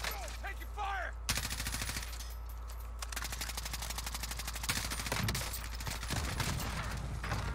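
Automatic gunfire rattles in rapid bursts during a Call of Duty Warzone duos match. Dense, loud volleys come close, with brief pauses between bursts, and voices talk faintly underneath.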